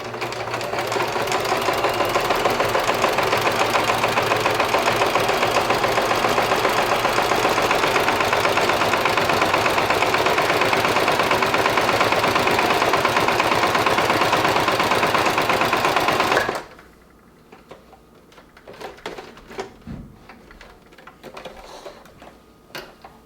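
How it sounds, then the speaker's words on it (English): A sewing machine runs steadily for about seventeen seconds, stitching straight vertical quilting lines through a quilt with a fairly short stitch length, a loud, even motor hum with rapid needle ticking that then stops, leaving faint handling sounds. "So I'm going to begin stitching with the line that's close to the middle of the quilt."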